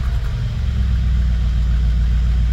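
A car engine runs steadily with a deep, loud low rumble, holding an even idle-like drone throughout with only slight unevenness and no voices.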